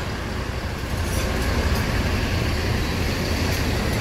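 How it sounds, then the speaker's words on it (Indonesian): Steady, loud low rumble of the exhaust on a Hino Euro 4 bus (Rosalia Indah SR2 HD Frame body) parked or idling in a parking area, broadband and continuous for a few seconds, with no talking. "Kayak knalpotnya mantap ini."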